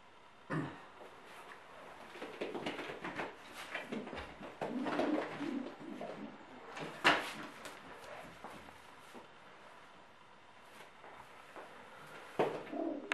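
Racing pigeons in a breeder's loft coo softly and repeatedly nearby, with low throaty calls, occasional wing flutters and small knocks in a quiet space.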